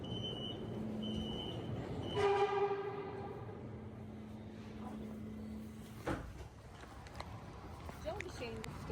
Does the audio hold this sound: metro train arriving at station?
yes